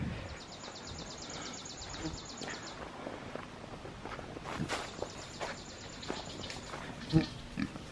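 Pigs on a farm on a hot day grunting and snuffling close by amid rustling and shuffling footsteps, with a couple of louder grunts near the end and faint background chirping.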